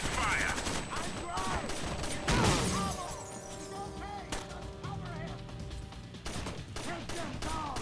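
Gunfire from the tactical shooter Rainbow Six: Vegas, dense bursts of automatic weapons and sharp single shots mixed with mechanical clatter and game sound effects, loud and continuous throughout.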